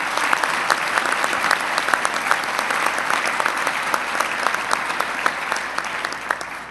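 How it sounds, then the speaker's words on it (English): A large audience applauds at a governor's announcement event, a loud, steady wash of clapping hands sustained throughout with no talk. "give him a round of applause"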